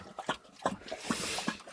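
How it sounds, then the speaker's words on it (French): A dog laps water in quick, irregular wet slurps, close and fairly quiet. "Qu'est-ce qu'il boit ce chien?"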